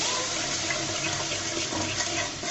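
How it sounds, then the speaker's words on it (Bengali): Water pours in a steady, rushing stream into a cooking pot of chilli-spiced masala for a chicken and new potato curry, a continuous close splashing fill with no voices. "তারপর দিয়ে দেবো পরিমাণ মতো পানি"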